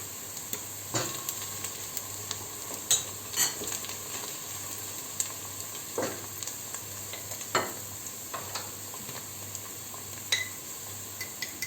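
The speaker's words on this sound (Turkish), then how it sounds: "Soğan kavrulduktan sonra yarım yemek kaşığı salça ilave ediyoruz." Sautéed onions with half a tablespoon of tomato paste sizzle steadily in a pan for chicken stew, with intermittent spoon scrapes and stirring clinks, close and fairly quiet, no talking.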